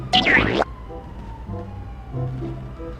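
Police siren in the video game GTA, a brief loud sweeping wail at the start, then fading into background tones and game sounds.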